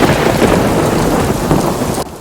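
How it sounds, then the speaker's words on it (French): Steady heavy rain pours with low rumbling thunder in an evening storm, a dense continuous wash that drops off abruptly near the end, with no voices. "Sous la pluie qui s'était déclenchée,"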